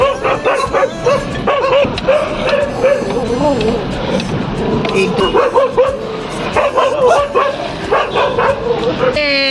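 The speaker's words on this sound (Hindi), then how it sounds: "लड़ाई हो रही है दूसरे डॉगीज के साथ।" A Labrador barks, yips and whimpers while scuffling with other dogs. The barking is loud, close and keeps coming in rapid clusters throughout, with noisy household background.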